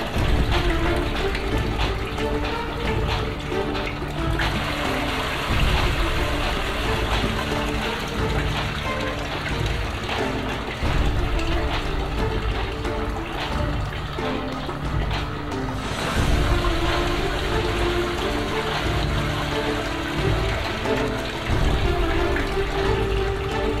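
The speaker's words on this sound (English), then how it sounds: "Still pumping water." Joseph Newman's energy machine pumps water steadily, with a continuous splashing, rushing flow and a mechanical hum running evenly throughout, without speech.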